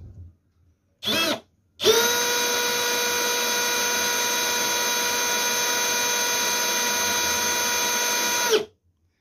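Milwaukee M12 Fuel Gen 3 brushless 12-volt hammer drill, two short bursts followed by a long steady whine at constant speed, close and loud, stopping cleanly at the end.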